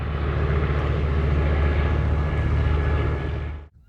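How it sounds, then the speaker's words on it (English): A Wright Cyclone supercharged 14-cylinder, 1950-horsepower WWII single-engine torpedo bomber roars past at an air show, a loud, steady propeller-engine drone that holds strong before dropping away abruptly near the end. "It's the biggest single-engine torpedo bomber from the war, powered by a 1950 horsepower, 14-cylinder Wright Cyclone supercharged engine."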